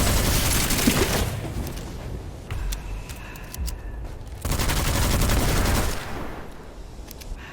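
Rapid bursts of weapon fire from the player's gun in the roguelike shooter Witchfire, two loud sustained volleys separated by quieter gaps with lighter clicks and clatter.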